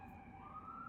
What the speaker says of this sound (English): I'm going to pause for the siren.